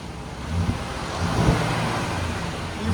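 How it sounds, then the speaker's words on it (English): A Jeep Grand Cherokee Summit with the 5.7L HEMI V8 and stock exhaust revs in a subdued, steady engine hum that rises gently in a couple of brief swells, quiet and close with no talk. "Even with revving, like how close I got it up there, and it's still quiet."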